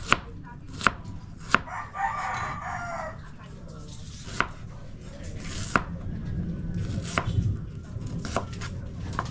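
A kitchen knife chops onion on a cutting board in sharp, irregular knocks spaced a second or more apart, close by, with a rooster crowing and hens clucking in the background.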